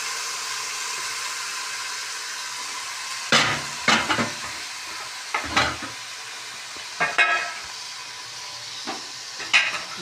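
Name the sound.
stirring yakhni pulao spices frying in a pot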